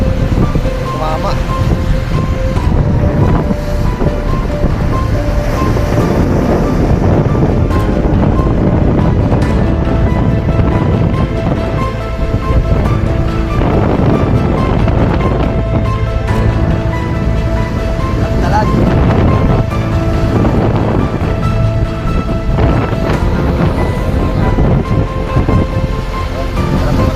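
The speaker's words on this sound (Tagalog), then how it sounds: "Malaki ng alon." Big waves crash and surge during a typhoon at Barangay Tapala. The wash is continuous and loud, with heavy wind buffeting the microphone and repeated surges of surf.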